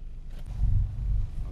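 A car engine idling low as the driver shifts into reverse gear during parking practice, a close, steady low rumble that swells slightly and holds.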